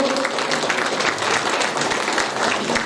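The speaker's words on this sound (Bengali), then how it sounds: "একটু জোরে হাততালি হোক।" Steady, dense applause from a theatre audience at a felicitation ceremony during a drama festival, continuous clapping filling the whole stretch with no gaps.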